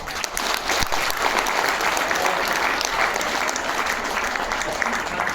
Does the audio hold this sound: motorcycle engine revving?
no